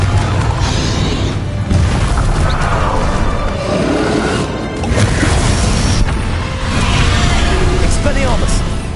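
Confringo fire spell blasts in Hogwarts Legacy, with booming bursts and whooshes clustered amid chaotic combat noise, loud and close, with voices over the action.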